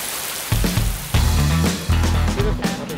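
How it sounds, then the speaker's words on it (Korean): Sudden unforecast rain pattering down at a construction site where a small dome-tent house is being assembled, a steady hiss of drops broken by close, loud knocks and rustling from the work. "갑자기 작업 중에 예보에 없던 비가 내리면서 바빠진 작업자들"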